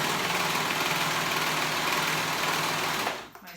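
A serger sewing machine runs in a steady, fast, loud whir close by, stitching through basted fabric layers before winding down to a stop at the end.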